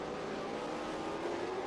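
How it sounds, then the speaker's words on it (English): Ford Mustang race cars on a road course roar along with a steady, sustained engine drone at moderate distance, no voices present. "Brabham and Menard, two Mustangs going at it."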